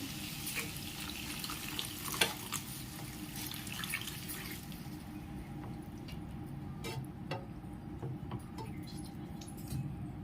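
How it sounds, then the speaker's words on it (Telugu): Water splashes and trickles steadily into a pot of cluster bean curry, with a few light metallic clinks along the way. No voices are heard. "ఇప్పుడు దీనిలో తగినన్ని వాటర్ వేసుకోండి"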